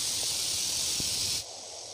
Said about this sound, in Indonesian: Kita harus buang uap panasnya dulu dengan cara seperti ini ya